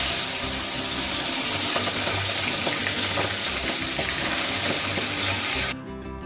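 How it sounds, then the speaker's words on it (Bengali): Prawns fry in hot oil with a dense, steady sizzle and hiss, close and fairly loud, running unbroken until it cuts out abruptly near the end. No voices. "চিংড়ি মাছগুলো এবারে সব ভাজা করে নেব।"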